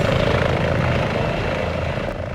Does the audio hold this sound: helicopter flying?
yes